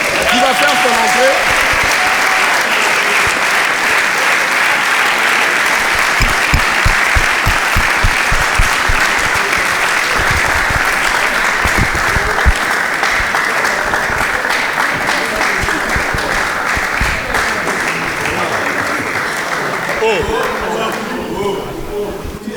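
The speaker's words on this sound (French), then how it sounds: "Je vous prie d'applaudir très fort pour le président des célibataires qui va faire son entrée." Loud, sustained audience applause greets a performer's entrance at a comedy show, dense crowd clapping that runs on for over twenty seconds with cheering mixed in, easing off slightly near the end.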